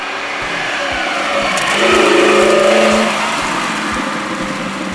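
Engine of a 1985 Lamborghini Jalpa while driving, a steady mid-pitched drone that swells louder around the middle and eases back, heard close and continuous with no talk.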